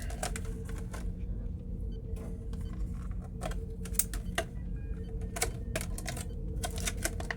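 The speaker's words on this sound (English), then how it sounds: "Get all the plastic and boxes out the way here." Plastic packaging and cardboard boxes pulled away from a die-cast model starship shuttle set, heard as rapid crinkles and sharp clicks over a steady noisy background, close and fairly loud.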